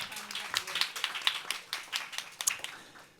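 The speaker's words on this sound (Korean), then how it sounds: "박수 한번 부탁드릴게요" An audience at a youth public diplomacy forum claps, giving a short burst of scattered, sparse hand claps that come close together and fade out within about three seconds.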